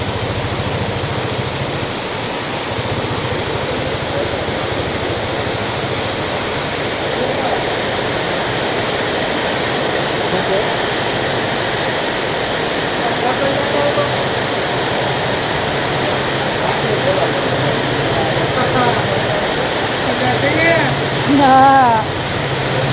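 Rain pours steadily at the Parab Dham temple grounds, a dense continuous hiss that stays fairly loud throughout, with faint distant voices and a brief chirp near the end.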